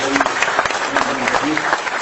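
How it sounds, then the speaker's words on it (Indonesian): Audience applause at an Islamic study gathering, a dense wash of clapping sustained and steady for the full two seconds, fairly close and loud with no pauses. "Tepuk tangan untuk semua."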